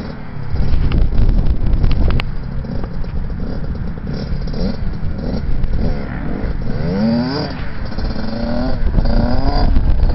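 A motocross bike at Budds Creek raceway revs hard with a sustained engine drone and rising pitch as it shifts up into second gear, heard loud and close with heavy wind buffeting on the microphone.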